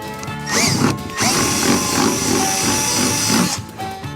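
A power drill whirs loudly and close, boring a rivet hole in a 12-foot Radisson canoe in one sustained three-second run after a short burst.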